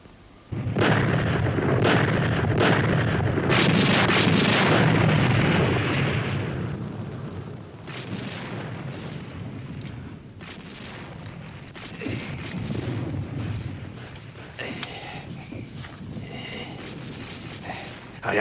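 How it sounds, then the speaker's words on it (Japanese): Enemy artillery shelling in a dubbed World War II war drama: a heavy rumbling barrage of explosions at first, then fainter distant booms and crackling, with faint voices in the background. "あれは敵の砲撃ですね。"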